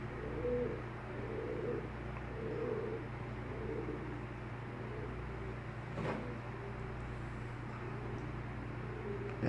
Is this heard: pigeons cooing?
yes